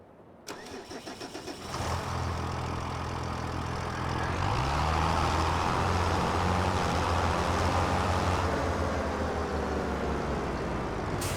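Tractor engine in Farming Simulator 25 cranking over with a few stuttering turns, then catching and settling into a steady loud idle that climbs slightly in pitch, with no voices.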